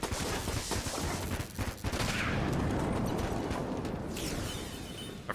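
Sustained heavy gunfire with silver bullets in a video game, a loud, dense barrage of overlapping shots and booms that rolls on continuously with no pauses.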